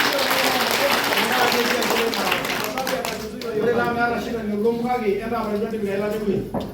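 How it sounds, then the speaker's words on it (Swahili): Audience applause at a church graduation ceremony for a class of 2024, broad steady clapping filling the space throughout, with voices and some singing or calling mixed in over it. "Tupigie wale hawa makofi."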